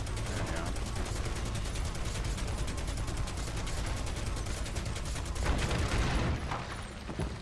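Dense, sustained gunfire from the Final Fantasy VII Remake video game, with rapid repeated shots forming a steady automatic barrage that swells briefly near the end, loud and continuous throughout.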